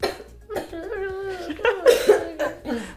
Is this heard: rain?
no